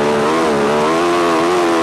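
A grass track racing sidecar bike engine accelerating hard, a loud, close, steady high-pitched roar with rising harmonics throughout.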